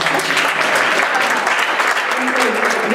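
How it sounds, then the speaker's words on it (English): An audience claps steadily and warmly at an evening talk, a dense, sustained round of applause filling the room for the full stretch with a faint voice underneath. "Give yourself a round of applause"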